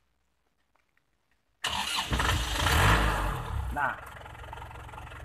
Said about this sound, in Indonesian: start ini seperti namanya start, itu adalah menghidupkan mobil atau kendaraan kita